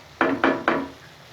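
Three quick scrapes of a spoon against a pan stirring drumstick pickle, evenly spaced and close, then quiet.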